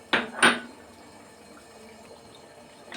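A spoon clatters twice against a cooking pan while stirring in a ground paste of cashew, white sesame, poppy seed and melon seed for a yogurt katla fish curry, then a quiet simmering background.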